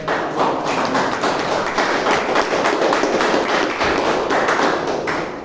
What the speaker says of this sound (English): So can we have a round of applause for all these speakers?